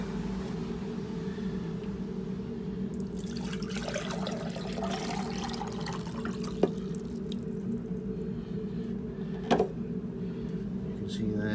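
Water is poured out of a soil sample from a rain simulator, a soft trickling splash that swells midway over a steady background hum, with a couple of sharp clinks.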